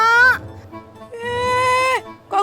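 A goat bleats loudly and close by, giving three drawn-out wavering cries with short gaps between them.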